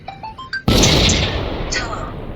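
Siege gun from the Rusty Shell mod for the Vintage Story video game fires a single loud boom that rumbles and decays over about two seconds, preceded by a few short rising tones.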